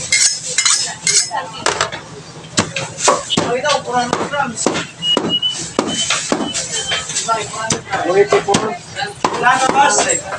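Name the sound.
chopping meat into large pieces for Bicol Express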